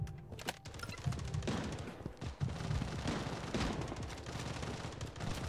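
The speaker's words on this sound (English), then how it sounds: "What am I getting shot by?" Loud bursts of automatic gunfire and shotgun blasts erupt in a Blood Strike match, sharp shots clustering in rapid volleys with brief gaps, fairly close and dominant throughout.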